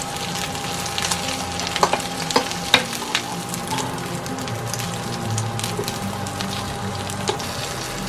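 Shiitake mushroom pancakes fry in oil in a pan, a steady close sizzle like light rain with a few sharper crackles and spatters early on, no voices.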